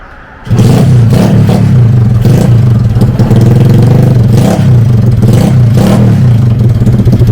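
A small minibike engine fitted with a chopper-style exhaust starts with a burst, then idles loudly with a deep, lumpy exhaust burble and a few sharp throttle blips.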